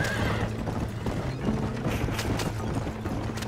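Horses neigh and whinny loudly during a wagon-train ride in the Western game Red Dead Redemption, over a steady clip-clop of hooves and rumbling movement.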